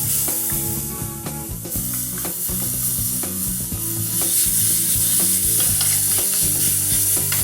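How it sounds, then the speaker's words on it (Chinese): Spicy ingredients stir-fried in a wok, with rhythmic metallic scraping and clattering of a utensil over a continuous loud sizzle, steady and close throughout, no voices. "我炒炒一啲辣辣嘅係咪哦"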